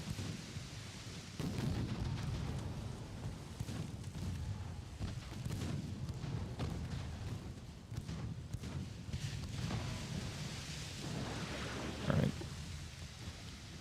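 Naval gunfire from warships in the naval battle game Ultimate Admiral: Dreadnoughts, with steady rumbling booms and distant shell impacts running throughout and a sharper blast near the end.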